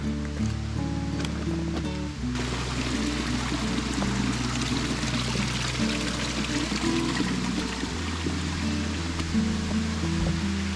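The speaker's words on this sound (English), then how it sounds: "Well, that's the waterfall." The waterfall at Pinevale Creek rushes in a steady, continuous roar of falling water, heard from nearby through trees, with an underlying low hum.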